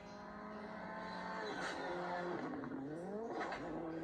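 A rally car's engine and exhaust rise in pitch as it approaches, then the note swoops downward as it passes, followed by another revving surge, loud and fairly close.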